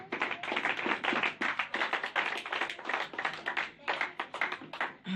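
A church congregation claps together during a Sunday service, with dense rhythmic handclaps coming in steady waves throughout and no voices standing out.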